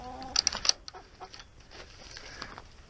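Backyard chickens let out to roam give a short burst of close, sharp clucks in the first second, then fade to faint scattered sounds.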